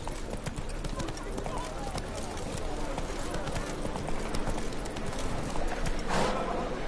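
Roach, the horse in The Witcher 3, gallops in a fast, continuous clip-clop of hooves that stays up close throughout, with a rider's voice breaking in now and then.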